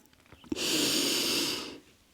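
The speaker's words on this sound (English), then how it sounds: "Breathing in and out through the nose." One long, loud breath drawn through the nose, a hissing airy rush lasting over a second before fading, close up and alone.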